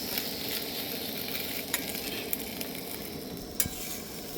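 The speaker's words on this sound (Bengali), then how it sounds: "তো এখন হচ্ছে কি ডিমের অমলেটটা ভাজি" A large egg omelette fries in a wok-style pan with a steady soft sizzle, broken by a few sharp clicks of a utensil scraping and stirring.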